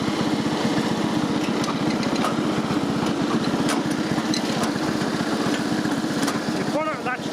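Victa 526 ride-on mower with its small engine running steadily throughout, a close, continuous rhythmic putter with a constant level and a brief higher whine near the end.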